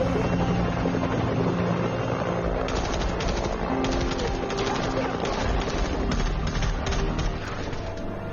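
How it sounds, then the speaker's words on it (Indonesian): A helicopter from a zombie survival game scene approaches, its steady rotor and engine drone sustained throughout under a dense mix of game sounds, with sharp rapid bursts resembling gunfire in the middle. "Dari belakang terdengarlah suara helikopter."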